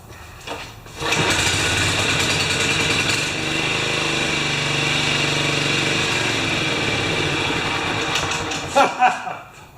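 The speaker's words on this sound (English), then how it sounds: "let's start it back up and see if it has enough power to run the blade" Older John Deere 14SE riding mower engine sputtering briefly, then catching and running steadily at a loud, buzzing idle for several seconds before it falters and cuts out.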